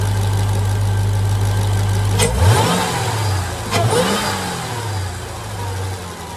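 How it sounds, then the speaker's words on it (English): A Jeep Trackhawk engine fitted with a cold air intake idles loudly, then is blipped twice, each sharp rev rising and falling back to a rumbling idle, close and alone. "Give it a couple more revs and we'll take it for a ride."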